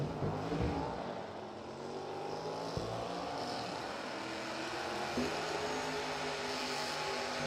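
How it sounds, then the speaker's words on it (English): Chevy Malibu and Ford Mustang drag racing side by side at a radial tire drag event, a steady loud roar of engines at a distance across the whole stretch with no talk. "Chevy Malibu taking on the Mustang."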